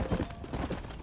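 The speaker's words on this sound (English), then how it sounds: "Hit your horse and wait for me by the stable." Horse hooves clip-clop at an easy walk in the Western video game Red Dead Redemption, a quick irregular patter of soft dull thuds at moderate distance, with faint ambient background and no talking.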